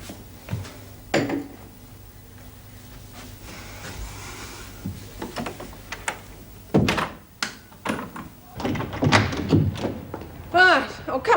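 A prison cell door is closed and locked, with several heavy thunks, clanks and metallic latch clicks spread across the stretch, close by, amid quiet background and shuffling.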